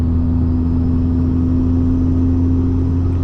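A 700hp big-turbo Cummins diesel in a 2006 dually truck drones steadily and loudly through the whole stretch, a constant low engine rumble with a faint turbo whine above it while driving on a bumpy road.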